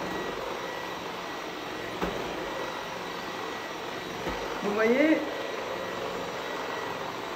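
A vacuum cleaner runs steadily, a close broadband whoosh that stays level while it tries to pick up hair and pepper. A voice speaks briefly partway through.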